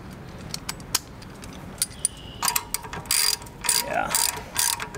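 A ratchet socket wrench turns a bolt while a Ricochet skid plate is fitted to a Kawasaki Versys X 300 motorcycle, heard as close, quick bursts of metallic clicking after a few faint isolated ticks.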